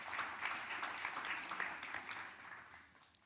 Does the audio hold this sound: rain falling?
no